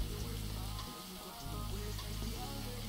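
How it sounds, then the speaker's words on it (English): A steady, loud hiss of heavy rain in a video game pours continuously throughout, with faint music humming underneath. "That rain loud as fuck."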